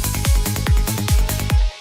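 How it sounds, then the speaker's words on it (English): A synth transition sound with delay, a sequence of plucked tones whose echoes repeat and sweep downward, steady and loud before cutting off abruptly at the end. "This is the transition sound."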